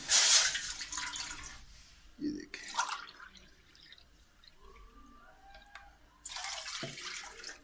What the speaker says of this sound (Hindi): ये देखिए 2 कप पानी